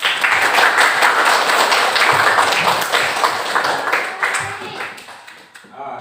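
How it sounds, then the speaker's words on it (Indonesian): A classroom full of people clapping for a student group, dense and steady at first, then thinning out and fading toward the end, with voices mixed in. "Tepuk tangan untuk kelompok 3."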